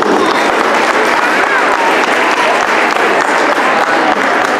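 Loud, sustained applause from a school audience at a Christmas party fills the room, dense clapping rolling on steadily in honour of excellent students, with a voice faintly underneath.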